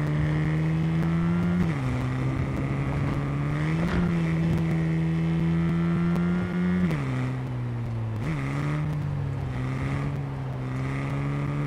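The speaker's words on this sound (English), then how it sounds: "This car drives really well." A car's engine hums steadily while driving in Cyberpunk 2077, its drone rising and dipping with gear changes and throttle, loud and continuous with a faint whooshing layer beneath.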